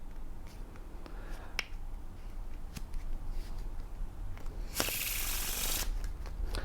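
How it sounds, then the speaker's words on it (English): Faro shuffle of a deck of playing cards, quiet close taps and card handling followed by one brief crisp riffling burst as the halves weave together, with no talk. "That's a perfect Faro Shuffle right there."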